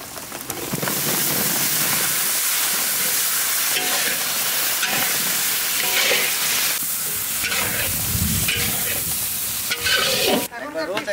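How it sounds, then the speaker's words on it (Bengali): Potatoes stir-fried with spiced mutton masala in a large pot for a village cooking feast give a loud, continuous sizzle with repeated stirring scrapes, close and dense throughout, briefly dropping near the end. "এখন আলু দিয়ে আবার কষাবো।"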